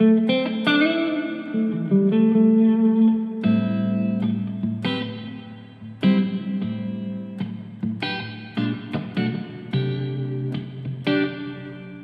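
Electric guitar notes and chords ring out through the huge cathedral reverb setting of the Helix Native plug-in, each strike blooming and lingering long after it is played.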